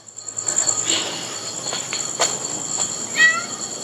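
A cat meows once in a cemetery, a short clear call near the end, with crickets chirping steadily and a faint high insect whine throughout.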